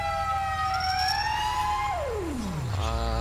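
A single emergency vehicle siren in a video game wails, rising slowly and then sweeping sharply downward as it winds down, loud and close with a steady hum beneath.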